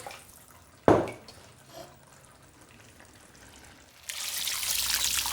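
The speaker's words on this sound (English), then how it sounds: "I'm just going to pour the water in here to swill around before sticking in the pot." Water poured into a roasting dish holding settled lamb shank juices, a sharp splash at first, a brief trickle, then a steady louder pour and swill running on close by with no talk.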